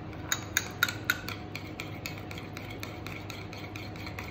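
A utensil mashes and mixes mint jelly in a bowl with a run of soft, quiet clicks and scrapes, sharper taps at first and then a faint, steady rubbing, with no voices.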